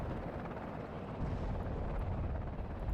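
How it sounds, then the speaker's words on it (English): Supply helicopter in the video game WARNO: a steady, dense rotor and engine roar that runs without a break, loud and close, with no speech. "It's a supply helicopter"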